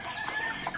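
Young Rhode Island Red chickens, about two months old, give a brief burst of soft clucking close by, with no talk over it.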